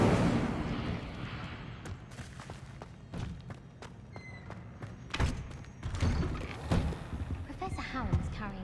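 An Incendio fire spell cast repeatedly in Hogwarts Legacy, a string of sharp whooshing bursts and heavy thuds recurring every second or so over a steady game backdrop.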